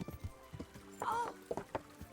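Horse hooves clip-clopping in Kingdom Come: Deliverance, a few soft, uneven hoof clops over a short stretch, mixed with light game ambience and a faint voice.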